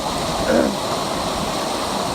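Heber River water flowing into the Gold River in February, a steady broadband rushing wash of stream water held close and constant, with a faint brief tonal trace early on.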